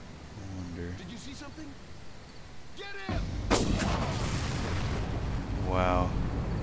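Rocket explosions in the Far Cry video game, a heavy blast that booms in and leaves a rumbling roar, with someone talking before it and a shout after.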